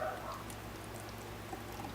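A blended fat-burn drink made with apple cider vinegar is poured in a soft, steady liquid trickle, faint and continuous for about two seconds over a low background hum, with no talking.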